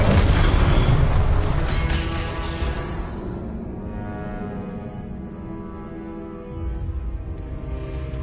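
A fiery Incendio spell erupts in Hogwarts Legacy with a loud whooshing boom, then rumbles and crackles more quietly for several seconds before a fresh burst swells near the end.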